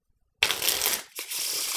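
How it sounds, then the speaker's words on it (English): A deck of playing cards is shuffled fast and close, a dense papery riffle burst, a brief pause, then a second flurry of riffling that runs to the end. "Shuffle like a madman."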